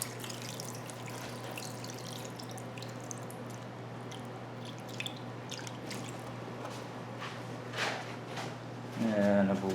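Water runs and drips into a shower pan being filled to test a Flex Seal and caulked perimeter seal, a soft continuous trickle with scattered drips and a brief louder splash near the end.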